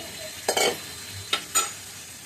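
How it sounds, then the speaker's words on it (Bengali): Brinjal pieces and green chillies go into a pan of fried potatoes, giving a low frying hiss with two sharp bursts of spatula stirring and scraping, close up and without talk. "আলু ভাজা হওয়ার পরে বেগুনগুলো দিয়ে দিলে, বেগুনের সাথে কাঁচা লঙ্কাও আছে।"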